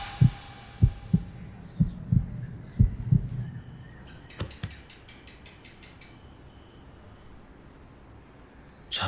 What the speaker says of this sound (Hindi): धड़कनें तेज हो गई है